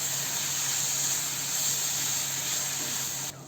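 Fried okra hitting a pan of tomato masala for a dry bhindi curry, giving a steady, loud, continuous sizzling hiss that holds evenly for a few seconds before cutting off at the end.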